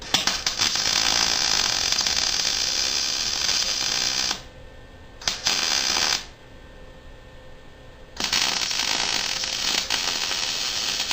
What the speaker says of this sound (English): I'm going to start welding